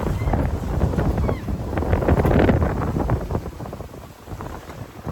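Strong wind buffets a sailboat at sea off the Portuguese coast, a constant loud roar with gusty swells and rumbling microphone buffeting throughout.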